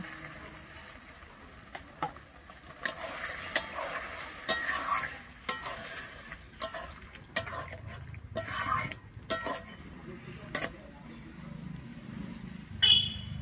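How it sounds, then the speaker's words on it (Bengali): Water goes into a pan of well-fried flat beans, giving a soft sizzle broken by sharp clicks and scrapes of stirring, with a muffled low rumble underneath near the end. "যেহেতু শিমটা ভালোভাবে ভেজে নিয়েছিলাম তাই এখানে আমি অল্প পরিমাণেই জল দিচ্ছি।"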